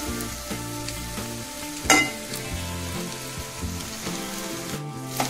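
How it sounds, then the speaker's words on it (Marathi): Dried coconut slices sauté in a pan for a spicy cauliflower masala paste, sizzling softly and steadily close by, with one sharp clink from a utensil and a few light stirring scrapes. "सुक्या खोबऱ्याचे काप आहेत हे थोडेसे परतून घेऊया"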